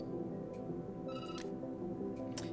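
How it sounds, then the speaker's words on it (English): A telephone rings indoors in a short series of bright, fairly faint trills over a steady background hum, with no talk. "The phone rings and you jump."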